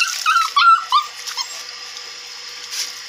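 A muddy dog whimpers and yips in a few short, high-pitched bursts near the start, then quiets to a faint background.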